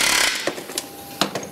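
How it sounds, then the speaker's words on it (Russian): Pneumatic riveting tool fastening rivets on an airliner at an aircraft repair plant: a hissing air stream followed by several short sharp rattling impacts, moderately close with no talk. "Только сегодня вместо обычного молотка используется пневматический инструмент."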